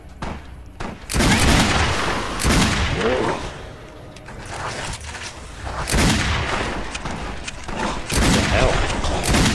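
Gunfire from a gun in the video game Fallout: New Vegas comes as several heavy, booming shots in irregular bursts, loud and close, with a voice speaking briefly between them.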